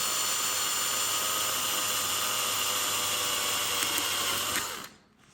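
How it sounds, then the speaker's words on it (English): A power drill boring a new hole lets out a steady, high, close whine that holds evenly for several seconds, then cuts off abruptly near the end. "So I'm just going to drill another hole"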